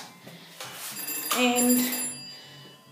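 A mobile phone rings indoors during home renovation work, its tonal ringtone rising over roughly a second and a half in the middle, moderately loud, with a brief spoken word from a man near the start.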